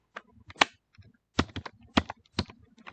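Typing on a computer keyboard, a quick irregular run of sharp, close key clicks and taps in quiet surroundings.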